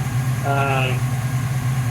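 A Ford Mustang engine fitted with a Street Demon 625 carburetor idles steadily with a low, even rumble and cooling fans running, close by, while a voice briefly speaks over it.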